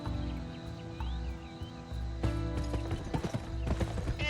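Horse hooves clip-clop steadily in the Western video game GUN, a continuous galloping rhythm over game music, with a brief neigh and denser hoof beats toward the end.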